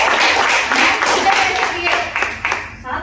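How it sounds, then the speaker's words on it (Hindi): Audience clapping at a business plan demo meeting, a dense burst of hand claps filling the room, loud and steady before tapering off near the end, with a voice partly audible underneath. "वेरी गुड मैम, के लिए ताली।"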